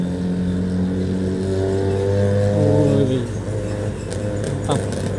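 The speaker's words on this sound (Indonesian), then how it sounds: "Wah, di depan kita ada mobil balap nih." Engine of a Honda Brio-based race car on the road, a steady harmonic drone rising in pitch as it revs, loud and close, mixed with traffic noise and a brief sharp pop near the end.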